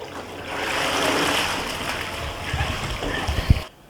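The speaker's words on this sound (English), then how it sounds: "all the water will evacuate out of the back of the cleaner when you pull it out of the pool." Water pours and splashes steadily out of the back of a Polaris Freedom cordless robotic pool cleaner as it is lifted from the pool. The gushing is close and continuous, with a few louder splatters near the end before it stops abruptly.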